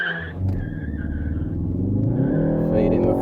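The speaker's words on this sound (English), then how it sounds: "I'll just let it grab the limiter in second" Ford Focus ST engine revving hard in second gear up to the rev limiter, a loud rising drone that holds near the top with slight tire noise as the car launches.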